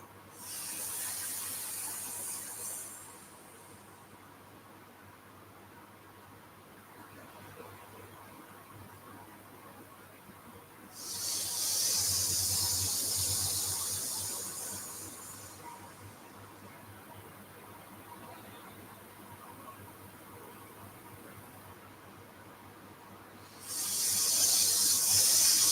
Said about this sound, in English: making a gentle hissing-like sound